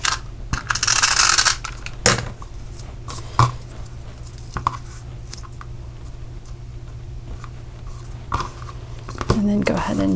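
A snail adhesive tape runner is pressed onto ribbon being fixed to a handmade card, giving short clicks and a scraping rasp at close range. Light handling noise runs underneath, and a person talks at moments.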